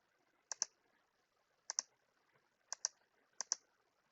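Computer mouse clicks in quiet paired bursts, four double-clicks spaced about a second apart, crisp and close with faint room hum between them.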